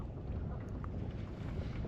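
Wind gusts buffet the microphone on a boat trolling across a lake, a continuous low rumbling roar with faint water sounds beneath, fairly quiet and steady.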